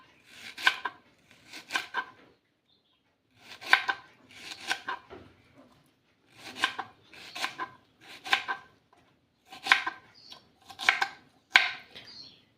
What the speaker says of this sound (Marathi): तर सर्व भेंडी आपण अशीच कट करून घेऊया